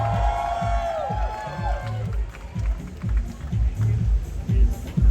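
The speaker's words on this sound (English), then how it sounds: "let's give them a big round of applause one more time" An audience claps and cheers for a professional cycling team at a Tour de France criterium in Singapore, a steady crowd roar with clapping and voices that rises near the end, under an announcer's amplified speech.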